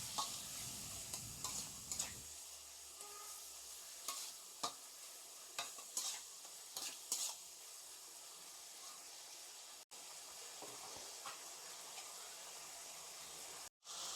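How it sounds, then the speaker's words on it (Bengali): Stirring whisked sour yogurt into a Bengali fish head curry (muri ghonto): a spoon scrapes in irregular strokes over a soft sizzle, then the low, steady frying hiss carries on alone. "এবার ভালো করে মিশিয়ে নেব।"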